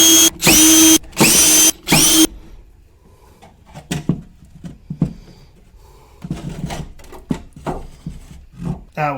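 A power drill on an ultrasonic cleaner drives off its bottom-panel screws in three loud, sustained whirring bursts. Scattered clicks and clatter of parts being handled follow.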